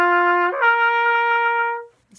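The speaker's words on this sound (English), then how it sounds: "If we try the arpeggio slurred, just going up, it would sound like this." A trumpet plays a slurred ascending arpeggio, close and clear. A lower note glides without a break into a higher note that is held for over a second before stopping. No one speaks.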